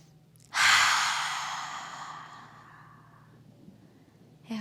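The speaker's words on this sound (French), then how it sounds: "Inspirez par le nez et expirez, soufflez par la bouche." A long, loud breath blown out through the mouth during a guided relaxation session, starting abruptly and tapering off over a few seconds, followed by a fresh inhale at the end.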